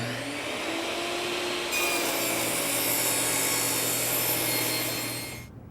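A table saw cuts a bevel across the end of a wood workpiece, a steady loud whirring grind that holds for about five seconds, rises slightly partway through, then stops abruptly.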